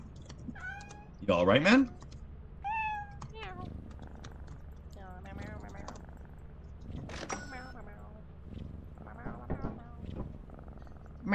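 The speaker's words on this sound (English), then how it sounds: "if the cat meows when we're trying to be quiet, something is going to find us" Cat meowing in the co-op horror game Lethal Company, several short upward meows spread through the clip, mixed with friends' voice chat and other game noises.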